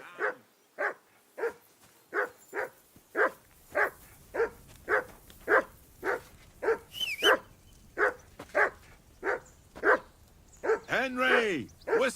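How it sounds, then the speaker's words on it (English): Dog in the video game Kingdom Come: Deliverance 2 barks over and over in a steady rhythm, loud and close, with a few whines near the end and a voice briefly speaking between barks. "Whistle at that mutt of yours. Come to here. Stop barking."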